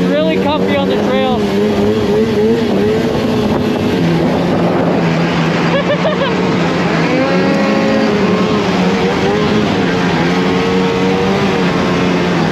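Catalyst 858 snowmobile engine droning steadily while riding a trail, with pitch rising and falling through throttle changes, close and continuous under wind buffeting, with a rider talking over it.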